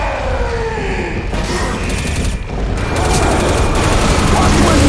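Rapid gunfire in the zombie shooter Left 4 Dead 2, dense overlapping shots and mechanical clatter forming a continuous loud fusillade, with game voices shouting over it.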